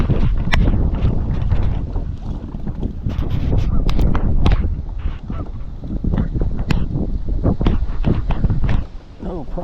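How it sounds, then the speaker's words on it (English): Strong wind buffets a microphone on a lake during crappie fishing, a continuous loud roar with gusty bursts and crackling handling noise, easing briefly near the end, with someone talking over it. "this wind is excessive"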